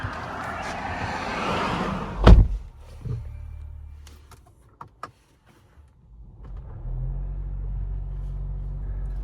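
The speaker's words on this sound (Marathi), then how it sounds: "हा वीक मर्सिडीज बेंझ मिळाली आहे GLE 350" A Mercedes-Benz GLE 350 car gives one sharp, close thunk like a shutting door, then a few quiet clicks and a near-silent pause before a steady low engine rumble settles in for the last few seconds.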